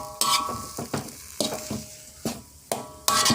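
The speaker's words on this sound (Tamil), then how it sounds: "இப்போ நம்ம இந்த மல்லி இலையை தூவி அடுப்பை ஆஃப் பண்ணிவிட்டு கிளறலாம்." A spoon scrapes and turns potato masala with coriander leaves in a pan for aloo paratha, in loud irregular strokes separated by brief pauses, with a faint sizzle underneath.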